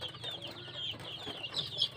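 Young crossbred village chickens (joper), several of them sick with a cold and kept apart from the flock, cluck and peep in a steady, busy chorus of short, high calls from close by.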